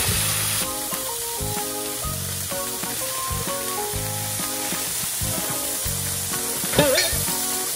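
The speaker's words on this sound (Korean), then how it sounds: "애들 거는 김치 씻어가지고 지금 볶고 있어요" Washed kimchi stir-frying in a pan for kimchi fried rice gives a steady, moderate sizzle with occasional stirring, set under continuous melodic background music.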